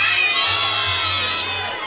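A group on an outbound team outing in Waru, Sidoarjo shouts and cheers loudly together on a count of three, a continuous burst of many voices close by.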